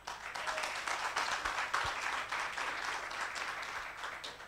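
An audience at a community campaign event against violence toward women and children claps steadily, a crowd sound heard at a distance with a couple of low thumps partway through.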